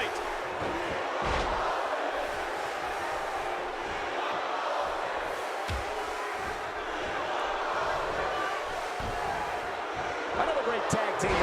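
A sold-out arena crowd roars steadily in a WWE 2K17 tag team main event, a dense continuous wall of cheering with scattered thuds from the ring and commentary voices running over it.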